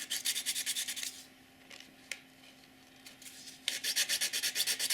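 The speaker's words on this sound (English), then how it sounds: "You can start by sanding the edge" Emery board rasping back and forth along the edge of a napkin angel ornament, fast rhythmic strokes at the start and end with a quieter pause between, close up.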